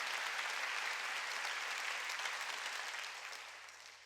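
Audience applause at a Wednesday worship service in a church, a sustained wash of clapping from a large congregation that fades gradually over the final second.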